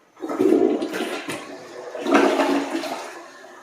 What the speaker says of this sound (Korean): 자, 변기 재설치 후 첫 번째 물 내려보는 겁니다.